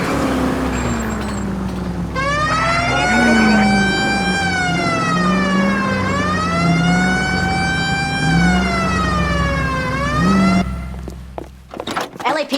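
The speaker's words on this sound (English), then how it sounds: "Hit the siren." A police car siren from the LA Noire video game wails loudly through its rising and falling sweeps over a steady engine drone and a low rumble.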